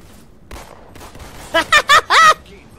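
Pistol shots in a Halo multiplayer match, four quick sharp bursts in close succession near the end, preceded by fainter distant pops and scuffling.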